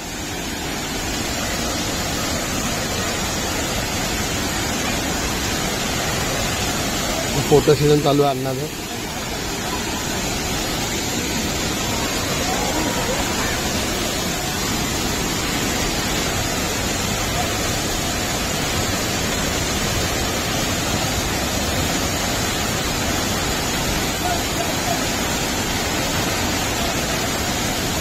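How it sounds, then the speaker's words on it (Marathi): Continuous roaring rush of falling water from the Savda waterfall fills the scene, broad and steady, with a brief spoken remark partway through. "आता आपण इथे सावडा धबधबा बघा. हा आहे तो सावडा धबधबा."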